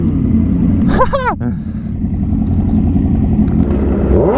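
A Yamaha R7 motorcycle's engine revs and rumbles, with a rough clattering transmission moment and a brief rising whine; a voice speaks partway through, loud and close.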